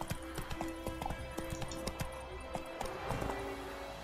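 Horse hooves clip-clop in a quick steady gallop rhythm while riding in the video game The Witcher 3, the beats close and clear over a low game ambience.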